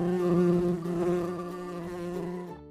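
A bee buzzes steadily and close by for nearly three seconds, a rich droning hum that keeps going and then cuts off abruptly near the end, with no voices over it.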